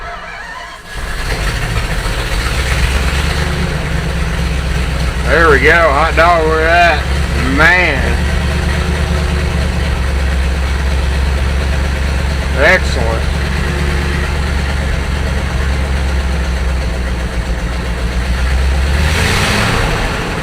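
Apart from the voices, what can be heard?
engine starting and idling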